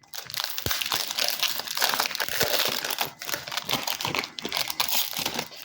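Wrapping paper from opened Lorcana trading card packs being crumpled and crushed by hand, dense crackling and crinkling bursts close up, continuous with brief pauses.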